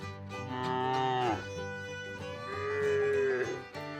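Grazing cattle in open grass fields moo twice, each a long drawn-out low call, loud and close, with a short gap between and no talk over them.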